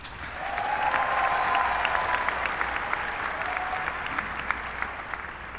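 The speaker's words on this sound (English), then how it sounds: "Let's give them a round of applause." A large commencement audience applauds the graduating class of 2015 in a full, sustained burst of dense clapping. It swells early and then holds steady, with faint crowd voices mixed in.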